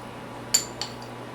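A fork scooping chili garlic sauce clinks against a jar or dish twice, with two sharp, light metallic taps close by in an otherwise quiet kitchen.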